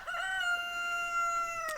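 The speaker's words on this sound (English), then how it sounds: "rooster right on cue." A rooster crows once on an Australian homestead, a long clear call at moderate distance, with quiet surroundings and no talking.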